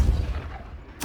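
Spell blasts of Incendio and Confringo in the video game Hogwarts Legacy: a booming low impact at the start that decays quickly, followed by a sharp bright crack near the end, brief and punchy.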